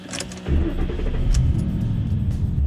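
A 2012 Ford Mustang's engine rumbles low and steady at close range as the car slowly backs out of a parking spot, with faint clicks and rustles over the hum.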